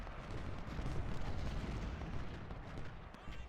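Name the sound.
canister artillery fire in video game Ultimate General: Civil War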